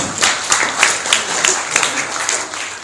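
Congregation at an Islamic religious gathering claps, loud and fairly rhythmic with distinct repeated beats, a crowd murmur and faint voices mixed in.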